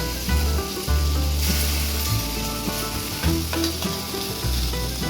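Bitter gourd frying in a pan gives a dense, continuous hiss and crackle, loud and close, with a few light stirring scrapes.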